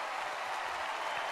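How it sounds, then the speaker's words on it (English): Muted applause fills a small room after a stand-up comedy set, a steady, even wash of clapping from a modest crowd, unbroken and moderately loud throughout. "Muted applause. Nothing like it."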